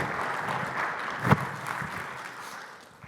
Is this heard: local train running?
no